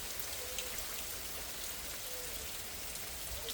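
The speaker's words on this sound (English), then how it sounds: "It started to rain." Steady rain patters down in Alabama during tornado weather, a dense, even hiss of countless drops on surfaces, constant and fairly close, with no voices.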